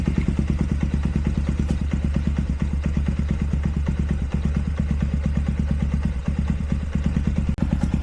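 A 1984 Kawasaki KLT 110 three-wheeler's small two-stroke engine idles steadily close by, still cold, with a rapid, even putter and slight clatter, running on its own without interruption.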